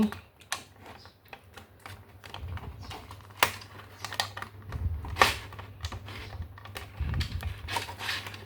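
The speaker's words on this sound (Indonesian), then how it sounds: "Kita tetap pakai obeng min. Kita congkel aja dulu satu-satu di sini." Trim clips on the air-conditioning vent grille of a Toyota Starlet GT Turbo being pried out one by one with a flathead screwdriver: faint, irregular plastic clicks and small snaps over a low hum.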